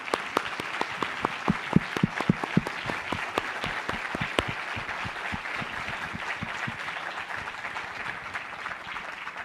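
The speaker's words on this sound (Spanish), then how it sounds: "un aplauso." An audience at a press-freedom anniversary event applauds for several seconds, with distinct close hand claps at first that blend into a steady crowd clapping wash.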